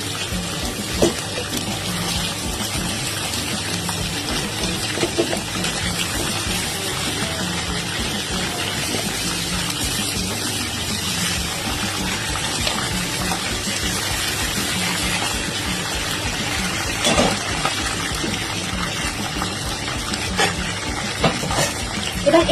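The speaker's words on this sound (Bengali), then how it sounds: "মাংসটাকে ততক্ষণ ভাজতে হবে যতক্ষণ না মাংসটার কালার হালকা ব্রাউনিশ হয়ে যাবে" Chicken pieces fry in oil for a spicy curry until lightly browned, giving a steady, close sizzle with scattered crackles and no talk.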